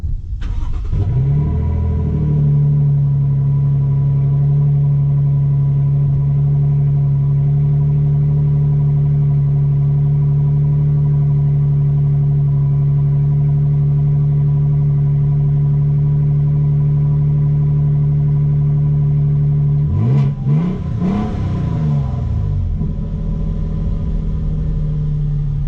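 A 2024 Toyota Tundra TRD Pro V6 idling with a low, steady exhaust rumble, loud and close. Near the end it revs briefly, then settles back to idle.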